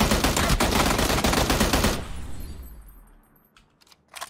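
Sniper rifle fire in Apex Legends comes as a burst of dense, loud gunfire sounds for about two seconds, then dies away into a fading tail with a few faint clicks at the end.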